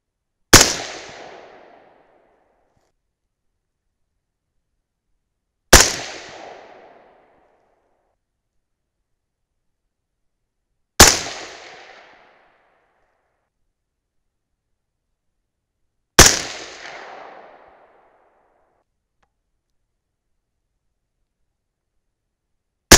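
Four loud, sharp rifle shots from a 6.5 Grendel firing 120gr Hornady ELD Match bullets, evenly spaced about five seconds apart, each with a short decaying echo into silence, plus the onset of a fifth at the very end.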